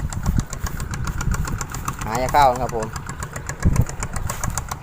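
A walking tractor engine runs close by with a steady, throbbing putter and occasional louder surges, while someone talks over it throughout.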